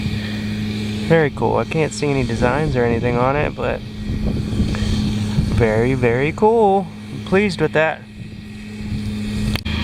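Steady mechanical hum of a blower droning beneath someone talking, constant and fairly loud at a metal detecting site among old farmhouse ruins.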